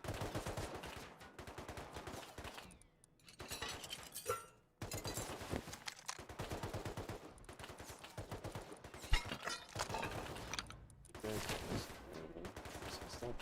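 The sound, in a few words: gunfire in the video game Rust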